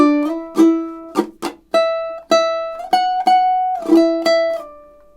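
A solo ukulele picks out the melody of measures 21–22 of a song, with plucked single notes ringing clearly and close, some held longer, in a steady rhythm.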